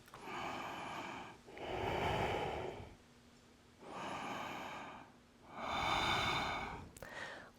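Deep, slow breaths during a vinyasa yoga pose, four long airy inhales and exhales in a steady rhythm, close and fairly quiet, with no speech.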